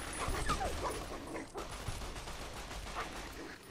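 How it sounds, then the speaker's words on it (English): Military cyber dogs barking in the Fallout New Vegas video game, repeated barks and yips over a dense, noisy game soundscape with what may be gunfire. "Military cyber dogs."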